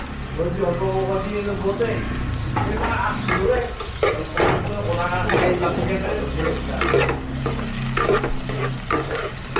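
Garlic sizzles while sautéing for chami, with steady frying hiss and repeated spatula scrapes against the pan, close up, as people talk over it throughout.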